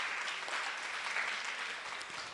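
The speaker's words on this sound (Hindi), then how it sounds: "तीनों ही टीम के लिए जोरदार हम तालियां बजाएंगे" Audience applause for three quiz competition teams at a memorial day event, a continuous dense patter of many hands clapping, even and fairly quiet, with no talk over it.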